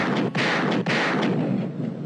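Gunshot sound effects played over a live basketball postgame stream: a loud, dense roar of rapid blasts with two brief dips, continuing for about two seconds.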